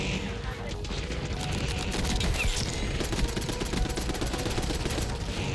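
Continuous automatic gunfire from the Tanto 22 in Black Ops 6 rattles throughout, with dense rapid bursts and impacts forming a steady wall of shooting.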